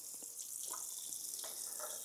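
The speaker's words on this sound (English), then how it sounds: "let's get some hot water running" Hot water runs from a household tap, a steady faint hiss of flowing water with small splashes into the sink, and no voices.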